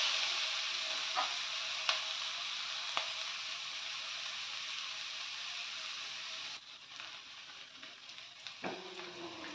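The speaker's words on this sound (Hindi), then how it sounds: "थोड़ा सा इसको भून लूंगी, इसका कच्चापन खत्म हो जाए" Spices being stir-fried in a pan for veg pulao: a continuous close sizzle with a couple of light utensil ticks. The sizzle drops noticeably quieter partway through, then scraping stirs follow.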